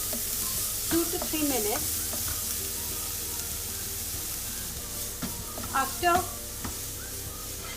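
Onions sautéing in a pan, a steady soft sizzle running throughout with scraping stirs mixed in, while a person talks over it now and then.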